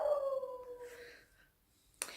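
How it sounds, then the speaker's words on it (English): Neighbour's dog in the background, a faint drawn-out howl or whine sliding downward, then quiet before a short sharp yip at the end. "My neighbour's dog in the background."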